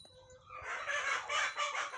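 Several chickens cluck and call together inside a netted coop on a farm with young birds. A steady, fairly close chorus builds after a quiet start and continues in overlapping bursts, with no talking.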